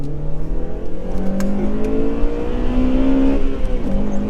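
A Honda Civic Type R VTEC engine revs steadily, its pitch climbing and shifting through gears, heard from inside with a constant whirring drone.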